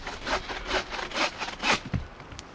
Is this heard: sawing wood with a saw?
yes